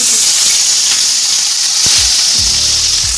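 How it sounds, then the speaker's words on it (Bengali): Pieces of rohu fish for a mustard-poppy seed curry sizzle loudly in hot oil, a dense steady hiss with a few sharp spits and crackles as pieces go in. "এখন আমি একটা একটা করে মাছ দিয়ে মাছটাকে আমি ভালো করে ভেজে নেব"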